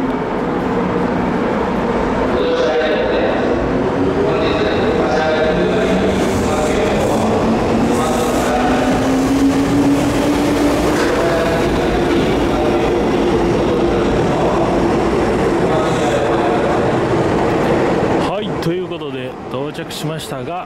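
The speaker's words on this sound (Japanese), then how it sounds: "近鉄大阪阿部の橋駅到着しました" A Kintetsu train pulls into Osaka Abenobashi station with a loud, continuous rumble and a rising electric motor whine, and a voice is heard over the din before it eases off at the end.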